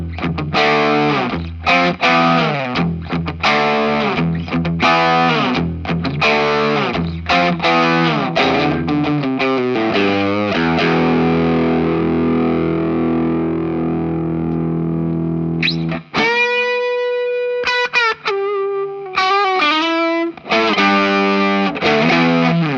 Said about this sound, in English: To get to the top end of the spectrum, you've definitely got going from an overdrive to more of a crunch kind of thing.